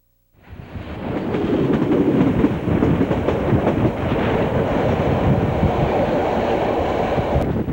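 Indonesian train running on rails from Jakarta toward Yogyakarta, a steady loud rumble with rhythmic clicking of wheels over rail joints that starts abruptly and continues evenly throughout, with no voices.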